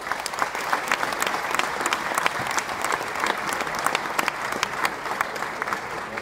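Sustained applause from a crowd at a FK Austria Wien project presentation, dense steady clapping throughout with no talking over it.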